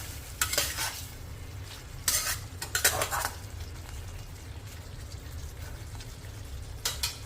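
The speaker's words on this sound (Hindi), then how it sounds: "इसे चला लेते हैं एक बार।" Cauliflower and potato curry gets stirred in a pan, with several bursts of a spoon scraping and clinking against the metal over a soft, steady sizzle of cooking, close by with no talking.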